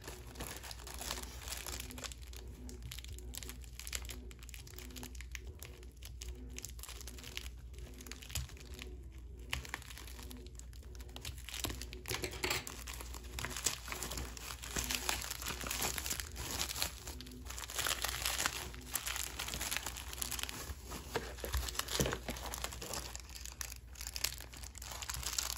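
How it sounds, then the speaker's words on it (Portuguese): Plastic wrapping on a small Shopee stationery package crinkles and rustles steadily as new scissors open it, with soft crackling bursts throughout and no talking. "deixa eu usar minha tesoura nova pra abrir esse item ao invés do estilete"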